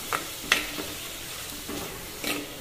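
Spiny gourd curry cooking in a clay pot, with a soft continuous sizzle and a few scattered scrapes of a stirring spoon, close but quiet.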